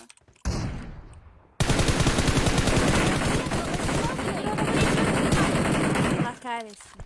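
Rapid automatic gunfire in PUBG Mobile, a dense burst of repeated shots starting after a short earlier volley and lasting several seconds, loud and close, ending abruptly with a brief voice afterward.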